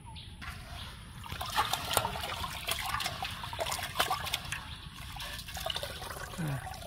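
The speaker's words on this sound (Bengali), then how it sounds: "এবার আমরা চালগুলো ধুয়ে নিচ্ছি" Rice is washed in water during village-style cooking, with gentle splashing, trickling and sloshing as the grains are stirred by hand, close and moderately quiet.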